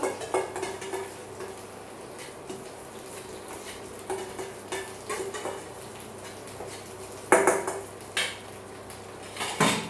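A spoon stirs a cool vegetable salad dressed with a mayonnaise-like sauce made without egg, giving soft repeated clinks and scrapes against a bowl at close range with short pauses between strokes and no talk.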